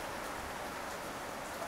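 Steady rain falls in Uganda, a dense, even hiss of drops on surfaces with no breaks, filling the short stretch without any voices.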